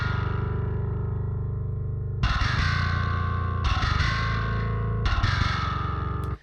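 Heavy distorted riff on a guitar in a very low tuning, plucked with the fingers so the strings rattle; a sustained chugging note gives way to three loud, choppy bursts separated by brief gaps.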